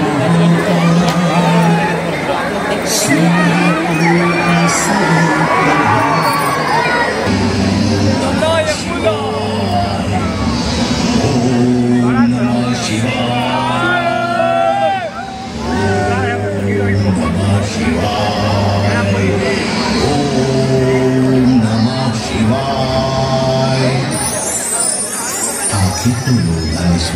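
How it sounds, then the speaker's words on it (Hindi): Dense crowd of festival-goers at a Durga Puja celebration in Bihiya, Bihar, a continuous loud hubbub of many voices mixed with amplified music and possible passing vehicles throughout. "तो ये हमारे यहाँ पर बहुत ही ज़्यादा भीड़ होता है।"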